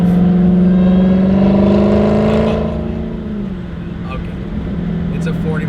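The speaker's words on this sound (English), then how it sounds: "I love listening to the supercharger whine as well as the exhaust" A Dodge Hellcat accelerates hard, its supercharger whining over a loud, close exhaust drone whose pitch climbs steadily, then eases and settles into a lower, steadier cruise.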